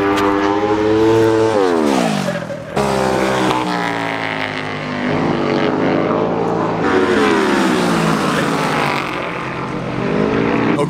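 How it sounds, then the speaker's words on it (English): Flat track motorcycles racing on a dirt mile oval at an American Flat Track event: loud, overlapping engine whines rising and falling in pitch as bikes pass close by, with a steady roar throughout and no clear tire squeal. "You can hear their tires squealing as they go across the dirt."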